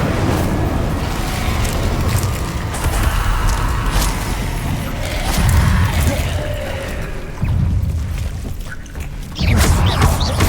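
The Incendio fire spell cast in Hogwarts Legacy, a dense, continuous roaring whoosh of flame and impact noise that swells and surges in several waves over about ten seconds.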